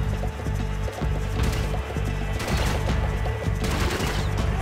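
Rapid bursts of enemy gunfire in the video game Max Payne 3, dense repeated shots over a steady game hum, loud and continuous throughout.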